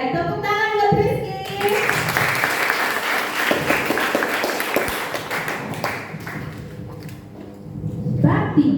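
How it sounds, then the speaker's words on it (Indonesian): Students in a classroom break into loud applause after a teacher's voice, with sustained clapping that gradually thins out and then gives way to more talking. "Oke, tepuk tangan buat Rizky."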